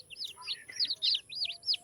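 Newly hatched chicks with their hen give a run of high, thin peeping chirps, about half a dozen quick calls in close succession, faint and near.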